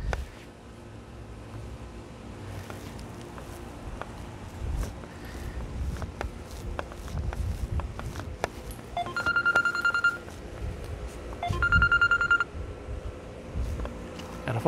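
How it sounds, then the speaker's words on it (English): A phone rings with an incoming call during a walk-through of a house with an older pool and air handler, two short bursts of electronic beeping heard faintly over footsteps and background noise. "Got a phone call there."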